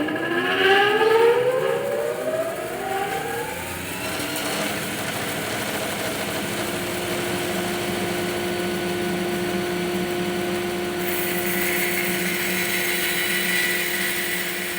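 A bandsaw resaws a wooden keel piece for a 23-foot V-bottom skiff, giving off a loud, steady whining drone with sustained tonal hum that runs without a break for the whole stretch, with no talking.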